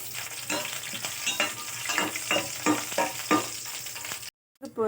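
Mustard seeds, chana dal and curry leaves sizzle in hot oil for a carrot and bean poriyal. There is a steady close hiss with rhythmic stirring scrapes and a few pops, then a brief silence and a short stir at the end.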